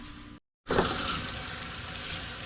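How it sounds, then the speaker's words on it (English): Water runs and splashes over shrimp being washed in a kitchen, a short cut in the middle, then a steady close rush of flowing water. "So we're gonna wash out the shrimp here back again one time"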